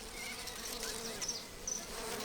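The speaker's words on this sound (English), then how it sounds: "Bees are hovering all over the tree, looking for nectar." Bees buzz around a bottlebrush tree in flower, a faint, steady drone with a few brief louder passes as insects move close, set against quiet outdoor riverside ambience.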